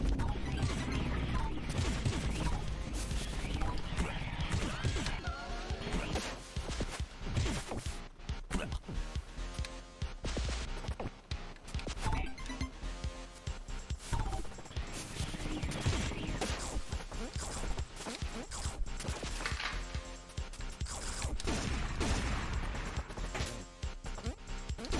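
Rapid bursts of gun blasts tear through enemies in the video game Pizza Tower, with loud repeated hits and crashes piling densely over busy game music throughout.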